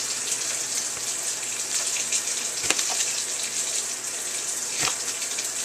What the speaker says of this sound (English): Remember, always wash off your veggies before slicing into them.